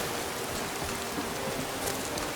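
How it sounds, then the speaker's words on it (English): Steady rain patters down in the open world of Skyrim, a soft, even hiss of drops on surfaces that holds unbroken throughout with no talk. "They'll put their hoods on when it's raining"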